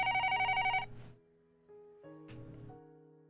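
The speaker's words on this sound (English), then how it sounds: "The phone on the desk rang," A desk telephone rings in a scene from the Higurashi Kai game: a bright, steady electronic ring for nearly a second, loud and close, then cut off as music continues.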